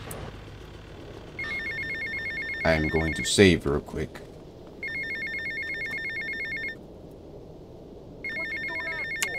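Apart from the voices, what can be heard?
telephone ringing in video game GTA Vice City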